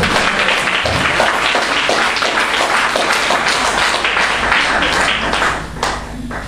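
A church congregation applauds and cheers in a dense, continuous wash of clapping and voices that stays loud throughout and eases slightly near the end.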